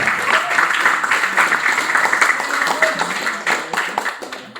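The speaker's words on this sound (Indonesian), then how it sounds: "Kita beri aplaus yang meriah" An audience at an evening sharing session gives a warm round of applause for the speaker, dense clapping that holds steady for several seconds, close and fairly loud.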